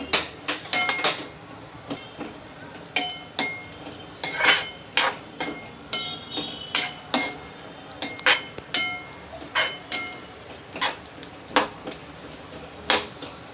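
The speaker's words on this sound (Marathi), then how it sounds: "हे बघा मी ते सतत परतत राहते।" Dry coconut being stirred and roasted in a pan for Malvani vatan, a spoon or spatula clinking and scraping against the metal in irregular sharp taps, close and fairly loud, with no talking.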